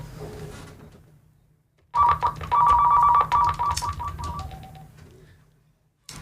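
A telephone rings in loud electronic trill bursts lasting a couple of seconds after a quiet pause, close and clear with faint background sounds.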